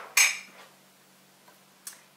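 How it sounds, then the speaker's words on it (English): Metal spoon scraping and scooping solidified fat off the top of chilled milk, a short clinking scrape at the start, then quiet with two faint small taps later. "what we want to do is just scoop out the fat off the top"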